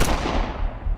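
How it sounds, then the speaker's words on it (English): A loud, booming rumble of gunfire that fills the whole moment, dense and echoing rather than crisp distinct shots, with no voices. "2 shots ring out."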